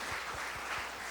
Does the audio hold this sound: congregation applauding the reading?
yes